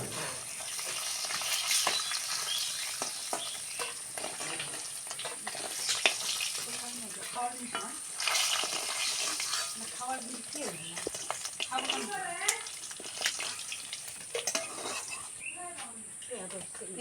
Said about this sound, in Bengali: মাছ ভাজা হয়ে গেছে, সুন্দর করে উল্টে পাল্টে ভাজে নিছি আর তুলে দিব।